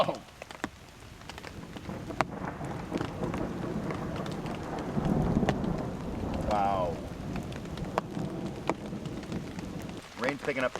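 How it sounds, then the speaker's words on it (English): Heavy rain pours steadily on a campsite during a big storm, a dense hiss with rumbling undertones that may be distant thunder, while someone speaks and exclaims over it. "Rain's picking up too."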